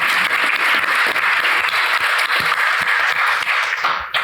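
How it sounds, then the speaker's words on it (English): Applause from an audience at a summit panel discussion, a dense, steady wash of clapping that holds throughout at close range and fades away at the very end. "So give yourselves a round of applause."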